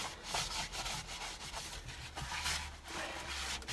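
Wax rubbed by hand onto a wooden yarn bowl, a steady close scraping friction with faint rhythmic strokes and no talk.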